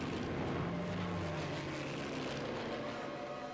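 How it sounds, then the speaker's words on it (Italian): Propeller warplanes fly overhead in the World War II shooter Sniper Elite 3, set at Kasserine Pass in North Africa; a steady, loud engine drone holds throughout with no talking. "abbiamo già degli aerei che producono un rumore"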